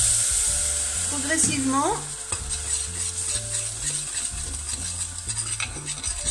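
Stock made from a dissolved cube in hot water is poured into a pan and stirred into a white sauce, with steady scraping stir strokes and a sizzle under a voice.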